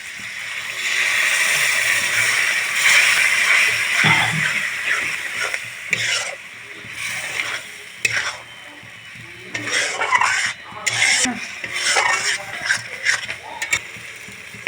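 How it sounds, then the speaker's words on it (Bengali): Spice masala for a Bengali-style mutton curry sizzles and fries in a pan, with a steady hiss and repeated scraping of a spoon against the metal, fairly close and loud. "মশলাটা খুব ভালো করে আমি কষিয়ে নিয়েছি এখন একটু জল অ্যাড করে দেব"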